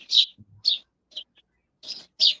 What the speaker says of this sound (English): The birds sound nice today.